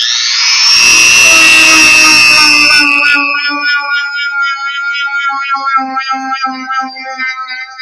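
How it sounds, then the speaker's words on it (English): A Dremel rotary tool fitted with a stone polishing wheel and working EVA foam gives a loud, close, high-pitched whine, then spins down after about three seconds into a fading, wavering hum. "So I came up with using this tool right here, the stone polishing wheel."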